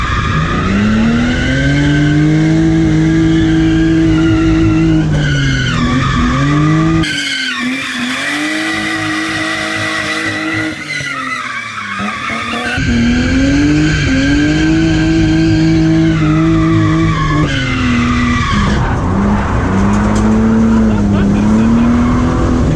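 BMW E36 drift car skidding hard on a street, its engine roaring loud and close with long continuous tire squeal and revving rising and falling throughout, with speech mixed in at times.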